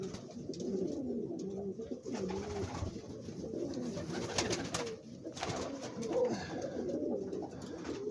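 Domestic pigeons in a breeding loft coo in repeated low, throaty rolling phrases, close and fairly soft over a quiet room tone, with several birds overlapping.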